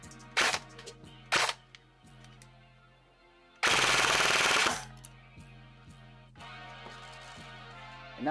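A Ferfrans IAR airsoft electric rifle runs on an 11.1 LiPo battery and fires 0.20 gram BBs. Two short bursts are followed by a loud sustained full-auto burst, all close and with no talk.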